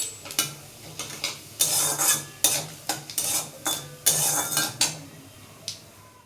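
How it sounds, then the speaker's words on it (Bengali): Dried red chillies and mustard seeds temper in hot oil, the frying hiss broken by repeated sharp scraping and clinking strokes of a spoon against the pan. These come in an irregular rhythm, close up, with no talking. "দুটো শুকনো লঙ্কা দিলাম ফোড়নে, আর সর্ষে"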